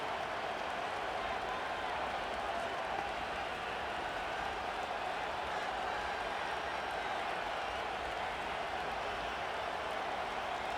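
Stadium crowd roar from the Madden 25 football game, Jets at Titans, a steady dense wash of distant cheering that holds at an even level throughout with no breaks.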